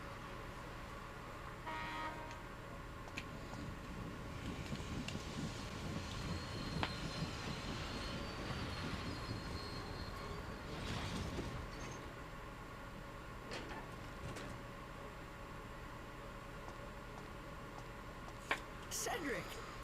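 Train running on the Blackstone Railroad in the video game Dark Cloud 2: a steady rumbling rail roll with clatter and brief squeals, under continuous talk and game sounds.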